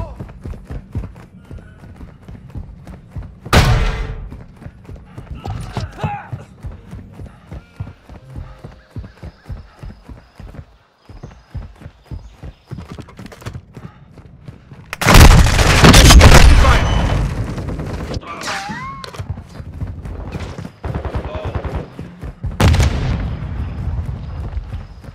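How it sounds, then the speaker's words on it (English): Gunfire in a video game directed at the player, with several loud bursts of shots and booms standing out among steady clattering and talk. "They're shooting at me!"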